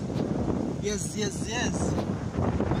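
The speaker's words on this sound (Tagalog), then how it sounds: "ang hangin dito, alam ko hindi nyo ako maririnig" Wind buffets the microphone at an outdoor resort with a constant rumbling roar while a voice speaks over it, partly drowned out.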